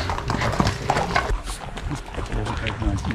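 Racehorse hooves clopping and a horse snorting in a Lambourn racing yard, close and busy, partly mixed with people talking throughout.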